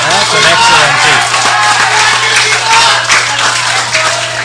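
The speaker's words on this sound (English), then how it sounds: "Not very often, Roger, you hear so much applause for a wide delivery" Spectators at an under-15 youth cricket festival match in an open ground applaud steadily and loudly, the clapping dense and sustained from start to finish, with a low constant hum beneath it.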